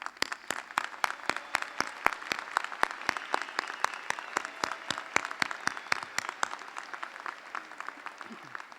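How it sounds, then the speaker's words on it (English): Audience applause at the 2013 Eisenhower High School graduation ceremony, a dense, steady round of clapping from a large crowd that carries on for several seconds and then gradually thins out. "Please join me in a round of applause for these kids."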